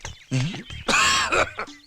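A short, harsh cough bursts out between brief vocal sounds, close and fairly loud, over about two seconds.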